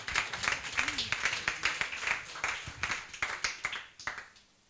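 Church congregation applauding Jesus, many hands clapping in a fairly rhythmic, fast patter that tapers off at the end, with voices faintly underneath.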